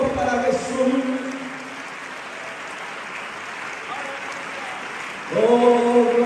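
A preacher speaks at the start and again near the end, with a church congregation's applause continuing as a soft, even wash of clapping under and between his words.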